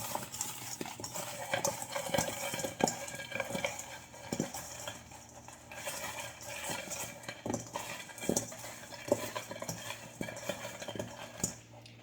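Chicken quarters and potatoes being tossed with seasoning and dried dill in a bowl, a continuous clatter and scrape of utensils against the bowl with irregular knocks, close and moderately loud, no speech.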